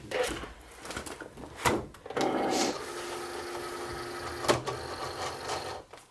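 A Cricut cutting machine loads and cuts adhesive vinyl stuck to glass, giving a steady close mechanical whir with sharper clicks and knocks at start and again midway.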